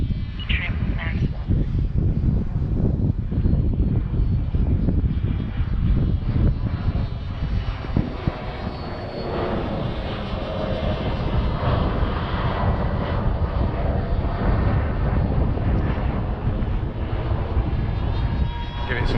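ZOHD Dart XL Enhanced FPV wing's electric motor climbing at full throttle on its maiden flight, a steady loud whirring drone with broadband wind rush throughout, voices talking intermittently over it.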